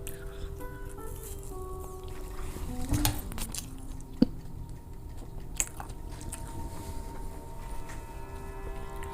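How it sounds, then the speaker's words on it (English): A person chews food up close in a quiet room, giving soft wet munching and occasional crunchy bites with a couple of sharp clicks, over a low background hum. "you can hear me chewing this shit"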